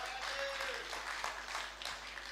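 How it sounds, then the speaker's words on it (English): Audience at a client party applauding after a beautiful piece of art is introduced, a soft, steady wash of clapping at moderate distance with some voices mixed in throughout. "We give a round of applause."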